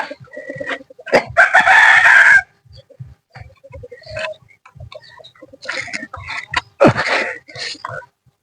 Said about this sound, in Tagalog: ang mga alaga kong manok